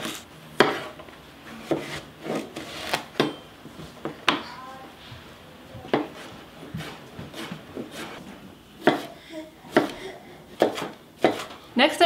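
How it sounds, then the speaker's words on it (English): A knife chops zucchini finely on a cutting board, producing a run of sharp, irregular thuds and knocks with short pauses between bursts, close and fairly distinct, with no voices. "I'm going to cut up my zucchinis, and I'm going to chop them as finely as I can"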